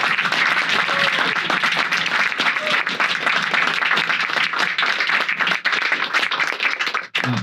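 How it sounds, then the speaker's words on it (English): Audience at a town hall meeting breaks into sustained clapping, a busy crackle of many hands held steady for several seconds before a brief dip near the end. "Let's give Alex a round of applause."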